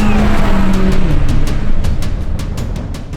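A BMW race car roars loudly and steadily on a mountain hill climb, its engine note holding near and continuous with brief tire squeal and gear-shift pulses.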